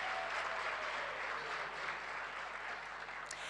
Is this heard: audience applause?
yes